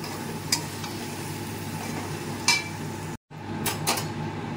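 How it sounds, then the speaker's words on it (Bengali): Chicken sautéing with chili powder in a full kadai over high flame gives a steady, even sizzle with a few sharp metallic scrapes of a spoon against the pan, close and continuous. "গুঁড়ো লঙ্কা দিয়ে একটু কষিয়ে নেব।"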